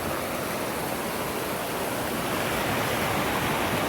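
The Cascade River in Superior National Forest rushes steadily and fast, a dense, continuous roar with no pauses and no voices.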